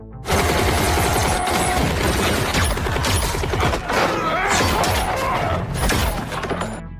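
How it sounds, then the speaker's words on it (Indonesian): Dense, continuous rapid gunfire with crashing impacts and booms, loud and sustained throughout, like an intense film firefight. "Otto dan yang lainnya muncul, memberondong kelompok Justice dengan tembakan beruntun."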